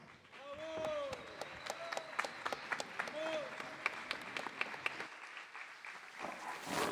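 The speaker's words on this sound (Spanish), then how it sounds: "Forte aplauso." Applause from the audience at a puppet cabaret, with scattered claps building into a sparse patter while voices call out over it, then thinning near the end.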